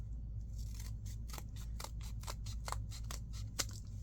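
Scissors snip repeatedly through a cardboard file folder, a quick series of about a dozen crisp close cuts in a fairly regular rhythm over a low steady background hum.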